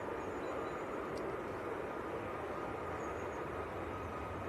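A Ryanair Boeing 737 Max 8 begins its take-off roll at Leeds Bradford Airport, a steady broadband jet engine roar held at constant loudness from a distance, with no voices.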